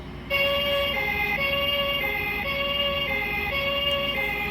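A toy ambulance siren plays a steady electronic tone that alternates at a regular rhythm. It sounds fairly loud and close, with no talking over it.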